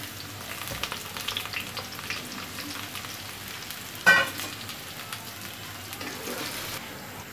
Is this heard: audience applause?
no